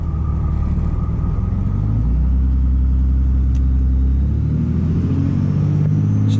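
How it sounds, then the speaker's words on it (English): Engine of a manual car pulling away in first gear under light throttle, a loud steady low rumble whose pitch rises, drops as revs change, then climbs again, close by with no talk. "we're going to go ahead and clutch, first gear, a little bit of throttle"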